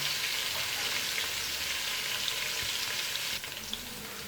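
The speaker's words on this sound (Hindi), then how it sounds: "ये मैंने इसके अंदर डाल के इसे भूनना है थोड़ी देर के लिए।" Chopped garlic frying in a pan for a tori (ridge gourd) curry, a dense, steady sizzle and crackle that runs continuously and close, dipping slightly near the end.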